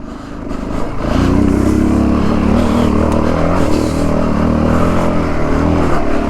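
Dirt bike engine straining loud and steady up a steep trail in the Palouse trail system of Idaho's Nez Perce-Clearwater National Forest, a continuous close drone with sustained revving under load.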